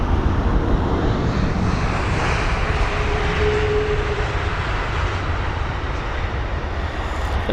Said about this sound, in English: there is flight number BA218 for the British Airways One World livery 777-200ER